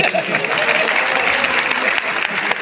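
An audience at a training program claps in a brief, dense burst, close and fairly loud, with no voices over it.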